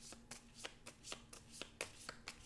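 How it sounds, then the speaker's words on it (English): A deck of cards for the Sentinels of the Multiverse board game is riffled and bridged in a quick rhythmic series of crisp, close flutters, about eight bursts in two and a half seconds, with no talk. "Then we got to shuffle the villain deck."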